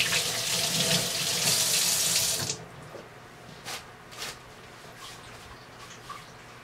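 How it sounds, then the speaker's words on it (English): Running tap water splashes over hands as they are washed in a sink, a loud steady gush for over two seconds, then cutting off to faint drips and small handling sounds. "First of all, wash your hands thoroughly"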